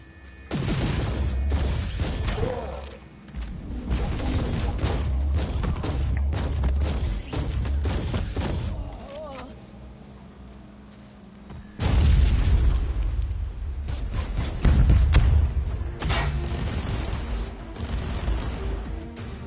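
Turrets fire in the game Warhammer 40K: Inquisitor - Martyr, producing loud, dense bursts of booms and mechanical blasts in two long volleys separated by a short quieter pause.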